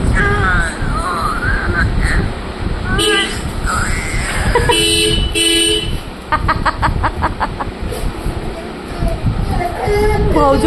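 A car horn toots in short bursts amid a busy outdoor mix of voices, a crowing rooster and barking, with chatter throughout and a dog reacting nearby.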